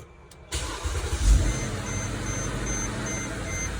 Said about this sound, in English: So I'm just going to go ahead and start up.